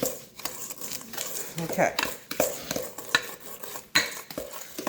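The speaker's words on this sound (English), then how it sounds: "2 eggs, 1 cup of granulated sugar. We're going to mix this together. Really mix this together." Eggs and granulated sugar for chocolate-chip brownies whisked in a bowl, with rapid, close metal-on-bowl clinks and scraping in uneven bursts while a voice speaks briefly.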